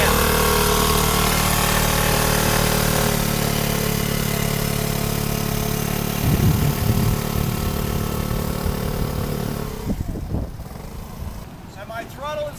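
Scooter engine running steadily at low speed with the throttle held open and the rear brake applied, a continuous close drone under a man's speech that drops off near the end.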